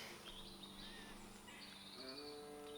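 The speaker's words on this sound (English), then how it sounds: "you can just hear the rooks and the crows settling and the birds" Rooks and crows settling at twilight around a wild campsite on the Peddars Way in England, heard as faint, distant calls and chirps over a steady outdoor hum, with no talking.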